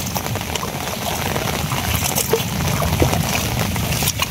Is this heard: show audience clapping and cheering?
no